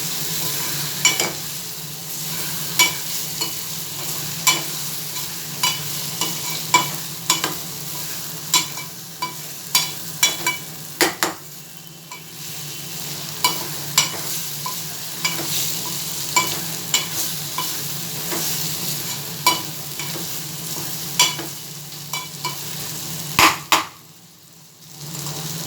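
Potato and tomato curry frying in oil in a pan, with a steady sizzle under repeated sharp scrapes and clinks of a spoon stirring against the metal, close and fairly loud, with no talking.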